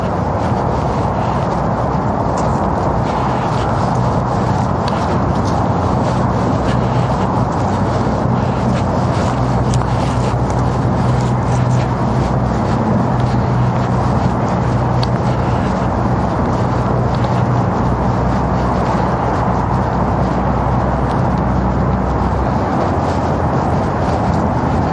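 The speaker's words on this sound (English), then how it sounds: "Other than the sound of traffic, it's really quiet out today." Steady, loud street traffic rumbles along South Broad Street in Philadelphia on a quiet day, a continuous low drone of passing vehicles with wind buffeting the microphone and no voices.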